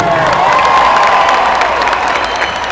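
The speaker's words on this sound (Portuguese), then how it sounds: "uma salva de palmas para ele." Loud, dense audience applause with cheering and whoops at a live music show, steady clapping filling the whole stretch without letup.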